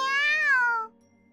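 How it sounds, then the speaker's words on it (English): A single drawn-out cat meow in a video game, clear and close, rising slightly then falling and fading out after under a second, with no talk over it. "Meow!"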